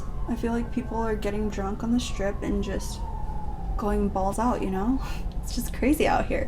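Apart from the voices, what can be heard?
sirens on the Las Vegas strip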